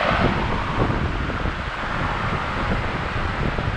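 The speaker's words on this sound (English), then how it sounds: "You gonna stand in front of the fan for a minute?" Steady broadband rush of an electric fan blowing air outdoors near a creek, a loud, constant whoosh that fills the whole stretch without pause and with no voices.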